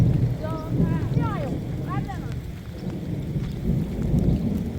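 Rain and rumbling thunder fill an outdoor space in a continuous heavy wash, while a voice calls out in short rising and falling bursts over the storm.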